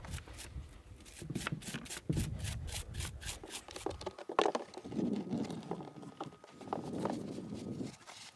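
Degreasing and cleaning the bevel gear from a furling mast drive unit, close scrubbing and rubbing strokes, first quick and rhythmic, then slower irregular wiping and scraping, fairly quiet with no talking.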